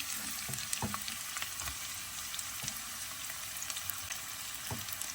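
Onion, garlic and curry leaves fry in oil with a soft, steady sizzle throughout, dotted with light crackles and occasional quiet stirring taps.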